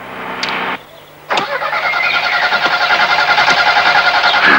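An old car engine cranks over and over, failing to start, a loud rhythmic chugging starter sound after a short pause and a few clunks, close by.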